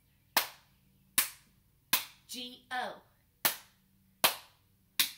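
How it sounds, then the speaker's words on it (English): Sharp hand claps ring out one at a time in a steady beat during a children's Bingo song, six claps broken by a short sung phrase, close and crisp in a quiet room. "I think that means we're going to clap when we get to the end this time."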